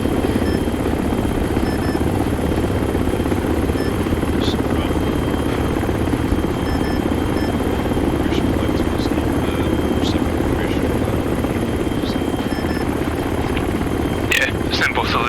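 A military helicopter on a Ranger and 160th SOAR field training exercise, its rotor and turbine engine roaring loud and steady throughout, with faint clicks and radio-like ticks over the constant drone.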